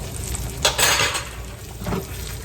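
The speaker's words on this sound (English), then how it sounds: "I'll make sure my egg is loose so it can slide around my skillet" An egg sliding around a skillet with potato hash, basted in fat: metallic scraping and clattering of pan and utensil over a low background sizzle, two brief louder swishes.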